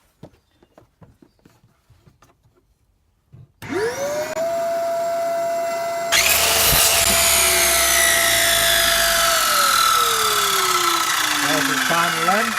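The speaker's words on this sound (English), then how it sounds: "so now I need to cut it there, and we need to cut the notches in to make it fit to the other piece." A power tool cuts a part for an A320 model build. Quiet taps come first, then the motor spins up to a high steady whine. It breaks into a loud, harsh cutting sound, and the pitch sags under load.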